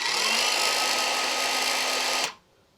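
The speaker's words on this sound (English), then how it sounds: "when you push that in, the trigger will function and then your blade will spin" Evolution cordless saw with no blade fitted, its motor spinning at a steady high-pitched whine for about two seconds before cutting off abruptly.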